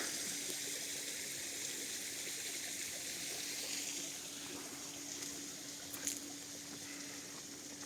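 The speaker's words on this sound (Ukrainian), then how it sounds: "Запустили водоспадик." Faint, steady trickling and splashing of a small waterfall in Truskavets in the Carpathians runs throughout, quiet and continuous, with a soft hum beneath and no voices.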